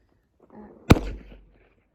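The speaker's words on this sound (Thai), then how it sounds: "เสียงมันไม่ดังแต่ว่ามีท่านที่ยิงปืนอยู่" A single sharp, fairly loud crack of a .22 rifle shot at an outdoor shooting spot, with a quick decay and a faint low murmur just before it.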